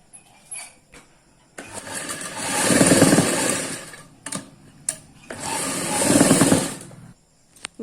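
A sewing machine stitches around the cut neckline of a suit in two long bursts, each swelling to a steady whir and then stopping, with short clicks and pauses between them, close and loud.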